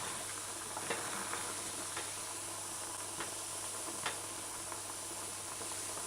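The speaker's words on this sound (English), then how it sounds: "Just stir in your pot." Steak strips and vegetables hiss steadily in a pot over a medium-low stove, with soft intermittent scrapes and taps of stirring above the constant sizzle.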